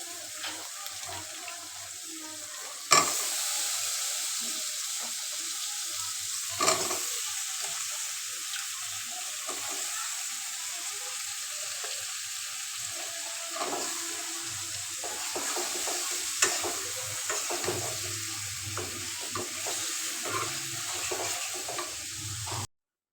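Eggplant fritters (begun bora) frying in a pan, a steady hiss of sizzling oil running throughout with a few sharp clicks and taps from utensils.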